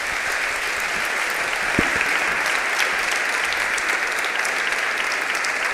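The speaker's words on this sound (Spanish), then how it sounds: "Un aplauso para el doctor Ferreira." Steady, sustained audience applause fills a hall after a lecture on constitutional law and human rights, dense even clapping at constant loudness throughout, with no speech over it.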